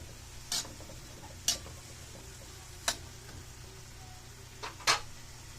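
A spoon stirs takway (water spinach stems) adobo with soy sauce in a pan, giving five sharp scraping clinks spaced across a steady low sizzle, with no talk.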